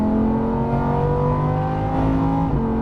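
A Lamborghini Huracan on a race track accelerates at full throttle, its loud engine holding a steady high whine with rising harmonic tones, close and continuous for about three seconds before a brief dip near the end.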